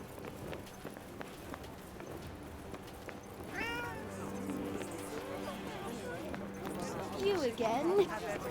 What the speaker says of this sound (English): I have a strange feeling that cat wants us to follow it.